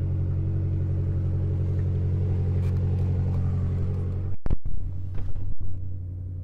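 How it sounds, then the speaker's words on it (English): A 2016 BMW M6 coupe with a push-button start sits idling in a low, steady rumble close to the mic, broken near the end by a few sharp clicks and short knocks. "turn the vehicle on, push button start"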